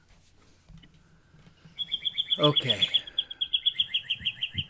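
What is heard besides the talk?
birds chirping outdoors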